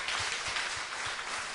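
A church congregation breaks into applause, a short burst of dense, fairly close clapping from many hands that fills the whole moment without voices.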